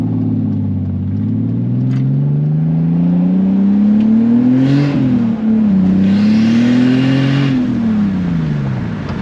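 A turbocharged BMW E46 fitted with a CXRacing turbo kit accelerates hard. Its engine note climbs steadily, dips briefly at a gear change, climbs again and then falls away, loud and close throughout.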